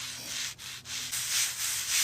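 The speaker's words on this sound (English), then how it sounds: "This is our chalk ASMR for you guys today." Chalk drawing lines across a surface: steady close scratchy rubbing strokes in a continuous rhythm, with two brief pauses where the chalk lifts, moderately loud and alone.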